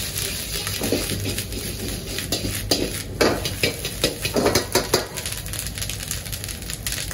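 Fried rice sizzles steadily in a hot pan, a continuous crackling hiss broken by repeated scraping and clanking as the rice is stirred and tossed with a metal utensil.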